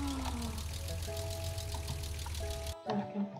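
A tractor engine idles with a steady, low, rumbling drone, then cuts off abruptly near the end, leaving a brief quieter moment.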